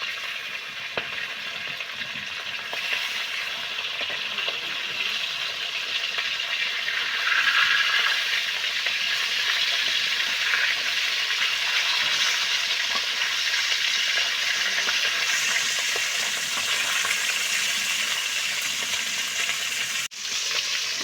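Hilsa fish frying in a pan of oil, a steady broad sizzle and hiss that holds at an even level throughout, close up, with a light clink near the end and no voices.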